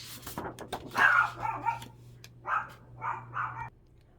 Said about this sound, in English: My husband came home and my dogs were going crazy